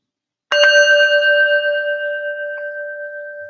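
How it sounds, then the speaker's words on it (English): A single clear strike of a meditation bell, a pure ringing tone that starts sharply after a short silence and slowly fades over several seconds, heard alone. "with the final tap of the bell"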